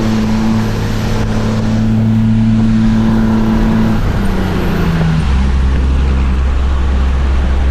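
Cummins diesel truck engine revs up and settles, a loud, close, continuous rumbling drone with shifting pitch, heard alone without voices.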